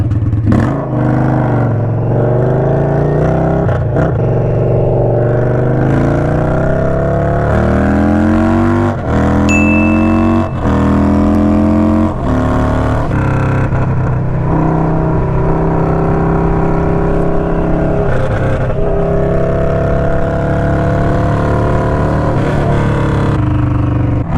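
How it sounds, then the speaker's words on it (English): An Indian Scout motorcycle fitted with a Hacker Mayhem 2-into-1 exhaust, no baffle, revs loudly up close, its deep throbbing idle climbing and falling through several throttle blips before settling into a low rumble. "The exhaust model is a 2-in-1 Mayhem Hacker exhaust, and we took the no baffle"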